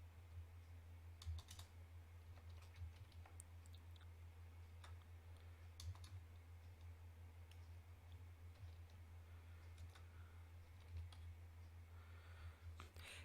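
Steady keystrokes on a computer keyboard, soft scattered clicks at an irregular pace over a constant low electrical hum, no voices.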